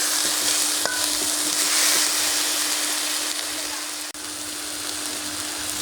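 Jute leaf greens frying in a pan, a loud, dense, steady sizzle with occasional stirring scrapes and a brief knock, close up and without voices.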